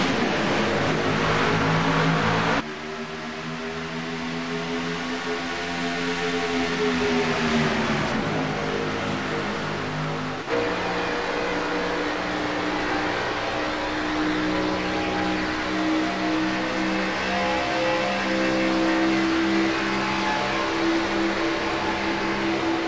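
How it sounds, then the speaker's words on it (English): Race cars in a video game roar off the green flag at Chicagoland, a dense pack of engines droning loud and continuous with shifting pitch as they accelerate, one whine rising and falling, steady throughout with no talking. "Green flag is out, and we're racing at Chicagoland."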